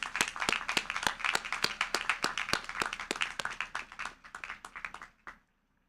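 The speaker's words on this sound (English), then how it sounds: "I believe that we deserve another huge round of applause" Graduates at the 2022 RCBC STEM commencement receive applause: sharp, fairly regular claps ring out close by for about five seconds, then thin out and stop abruptly.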